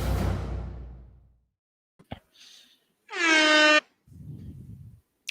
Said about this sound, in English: I just have my air horn thing